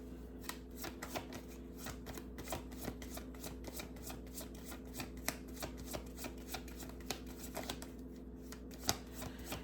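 Cards being shuffled close by, a quick steady riffle of crisp paper clicks repeating throughout, faint but distinct.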